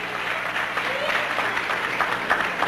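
Sustained audience applause at a talent show, steady dense clapping from a crowd filling the whole moment without a pause.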